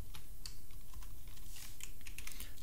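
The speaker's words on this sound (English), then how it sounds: "So just type dash u and put some parentheses and type your username." Username typed on a computer keyboard, a rapid, irregular run of light key clicks heard close and fairly quiet, with no voice.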